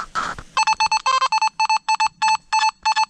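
A metal detector held in front of the back end of a shotgun cartridge gives about ten short, evenly spaced electronic beeps after a brief rustle, close and loud with no talking.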